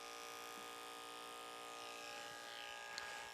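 Electric hair clippers buzz steadily and faintly as they cut a taper during a short Princeton-style ivy league haircut, a continuous hum with no talking.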